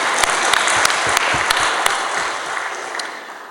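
Audience applause during Christine Lagarde's speech in Rwanda, a dense burst of clapping with a few sharp nearby claps standing out, gradually fading toward the end.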